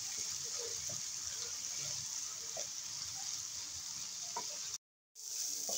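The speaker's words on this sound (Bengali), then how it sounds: "সব কিছু একসাথে ভেজে নিয়েছি।" Chopped onions, garlic, salt and dried chilies fry together in a pan with a steady close sizzle and hiss, briefly cutting out near the end before resuming.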